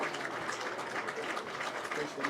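Crowd applause at a high school football game, a steady dense wash of clapping at moderate distance that fills the whole moment without a break.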